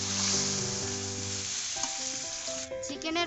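Onion-stalk cooking water pours into masala and chicken frying in a pan, the steady loud sizzle shifting and bubbling as the liquid hits, with stirring clinks near the end.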